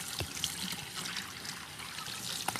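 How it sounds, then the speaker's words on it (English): Cold tap water runs over quinoa grains in a kitchen strainer, a soft steady trickle and splash with a few brief clinks, close and fairly quiet. "Just run some cold water on the grains and put it in a strainer."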